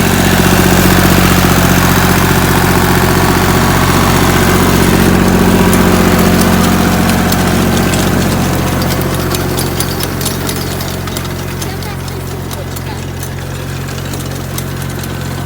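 A tractor engine runs on a potato field in a village, a loud, close, steady droning idle with a strong low hum, easing slightly quieter toward the end, with no talk.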